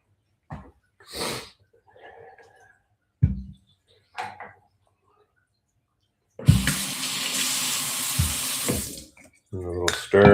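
A tap runs into a sink during washing up after coffee-making, a close rushing stream lasting a few seconds, with scattered handling noises and brief sounds before and after.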